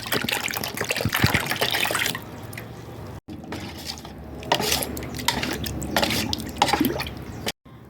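Water is poured into a flour mixture for a homemade yeast starter, giving a continuous close splashing gush with clinks of a container, briefly interrupted twice, with no talking.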